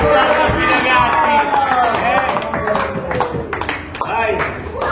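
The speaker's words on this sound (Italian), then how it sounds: "Facciamo un applauso a tutti i ragazzi." A crowd in a large restaurant in Rome applauds, the clapping dense and steady throughout, mixed with loud chatter, shouts and whoops from the diners.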